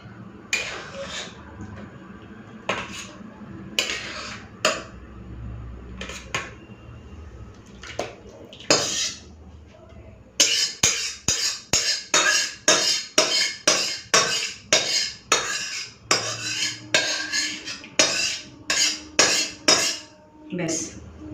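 Rohu fish curry with bori (lentil dumplings) and raw tamarind is poured out, with steel dishes and utensils clinking and clattering in a rapid series of sharp knocks after a quieter stretch of handling.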